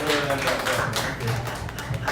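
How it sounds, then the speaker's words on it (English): An audience claps for a departing guest at a community show, a mix of hand claps and taps against a murmur of voices and background hum. "Big round of applause for Goodbye."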